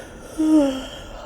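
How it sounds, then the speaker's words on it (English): A single short yawn, a breathy voiced exhale with a brief rising tone lasting under half a second, close and fairly quiet. "excuse my yawn"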